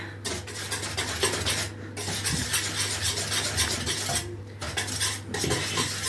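Chocolate cake batter with kefir is stirred in a bowl, a continuous close scraping and clinking of a utensil against the sides, with two short pauses and no voices.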